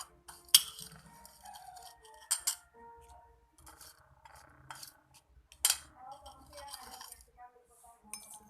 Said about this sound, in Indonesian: 1/2 sendok garam ke dalam gelas masing-masing.